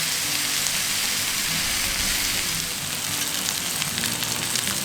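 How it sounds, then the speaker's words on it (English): Ribeye steaks sear on a very hot surface, giving a steady, dense, close sizzle that crackles without pause, with no voices over it. "We're going to sear these on both sides and the edges."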